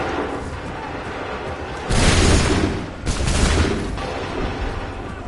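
A musket volley fired on command in the video game Assassin's Creed 3: two loud, broad booming bursts of massed gunfire, the second close behind the first, over a steady background din.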